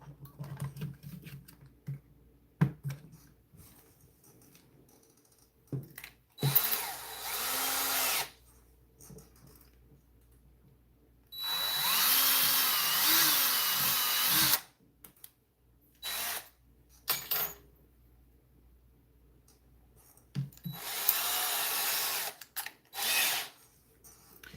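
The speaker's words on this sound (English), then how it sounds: "So we're just going to drill in and see what we can do exactly." A power drill whirs in several bursts of a few seconds each as it bores into a doll, separated by quiet pauses with scattered handling clicks and taps.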